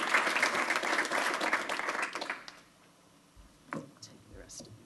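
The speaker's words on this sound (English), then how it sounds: "I'd like a round of applause" Applause from the audience at an Elmhurst Community Unit School District 205 board meeting, a dense burst of clapping that fades out after a couple of seconds, followed by scattered small clicks and faint room noise.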